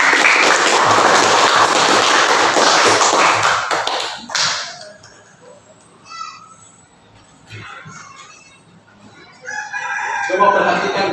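A classroom of students claps for a classmate in a dense burst of many hands lasting about four seconds, then it fades to quieter sounds with scattered voices.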